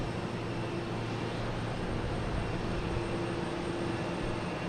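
Steady, continuous drone of a Cessna 402 twin piston-engine aircraft at Boston Logan Airport, a broad even rumble with a low engine hum that holds at constant loudness throughout, with no talk.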